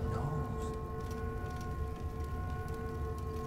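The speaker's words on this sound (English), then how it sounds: "that weird droning sound you hear means someone died in this room or something." A weird ambient drone from the horror video game Amnesia: The Dark Descent hums as steady layered tones over a low murky rumble, constant and unbroken.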